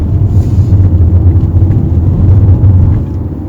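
A manual-transmission car engine accelerates through the gears, giving a loud, steady low droning rumble that eases off slightly near the end.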